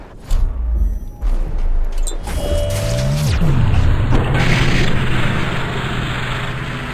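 A grenade goes off in the stealth game Dishonored: a heavy boom that swells into a long, rumbling roar of blast noise, loud and filling the scene for several seconds before slowly easing.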